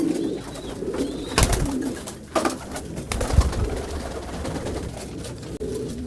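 Pigeons kept for sale coo close by, repeated soft throaty calls through a few seconds with some fluttering and knocks, and no one speaking.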